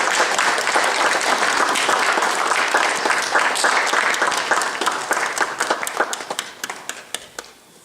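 A church audience gives sustained applause to welcome a new pastor and his family. Dense, loud clapping thins out toward the end into scattered individual claps.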